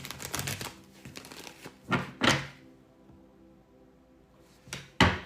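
Tarot cards are riffled and shuffled in short crisp bursts, close by, with soft taps and pauses between the bursts.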